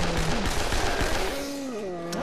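Rapid bursts of gunfire in School Girl Zombie Hunter, loud repeated shots crackling over a tonal musical backdrop.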